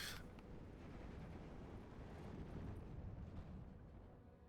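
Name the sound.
artillery fire in the video game Steel Division 2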